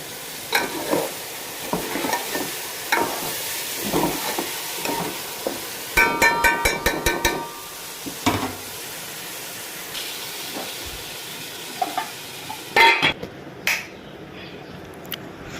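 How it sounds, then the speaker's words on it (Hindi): Food being stirred and fried in oil during the final minute or two of cooking, with scattered scraping and stirring clicks over a soft sizzle and a few sharper clatters. "तो इसकी 1 से 2 मिनट तक और भुनाई करती है"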